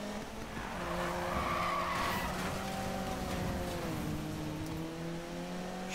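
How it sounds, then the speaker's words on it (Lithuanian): Tires screech in a long, continuous skid over a droning engine as a car slides through a drift in the video game Need for Speed, steady and loud throughout. "Atrodo, kad bus toks epic driftas žiauriai."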